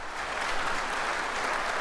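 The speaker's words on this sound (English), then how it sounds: "I'm going to give you a round of applause." A short burst of applause, steady and dense, with no voices over it.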